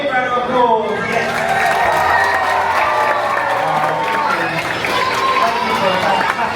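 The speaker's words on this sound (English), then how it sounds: "A big round of applause." An audience aboard a Disney cruise ship applauds and cheers after a performance, a dense, sustained wash of clapping that fills the whole stretch at steady strength.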